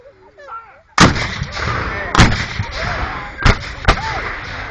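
Battle reenactment gunfire booms in a loud volley, with a heavy blast followed by several more shots spaced irregularly and a rumbling echo between them. A voice is heard briefly just before the first shot.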